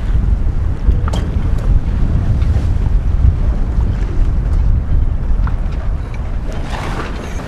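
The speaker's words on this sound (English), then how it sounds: "There is strong wind only on the northern side of the bay, but we are still racing" Strong wind roars steadily across the microphone during a big-boat sailing race on a bay, a loud continuous rush mixed with water noise, no talk.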